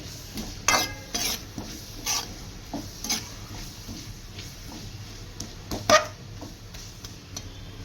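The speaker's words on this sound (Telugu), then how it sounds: "అట్లా తిప్పుకోవాలన్నమాట బాగా ఫ్రై చేసుకోవాలి" Chicken pieces for an Andhra-style fry are stirred in a pan, giving irregular scrapes and sharp metal clinks from a spoon over a soft, constant sizzle. No one talks.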